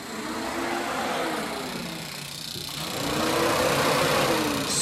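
Electric cooling fans on a Mazda RX7 with an EFI conversion switch on, giving a steady whirring hum that rises slightly in level partway through, heard close over a faint mechanical background.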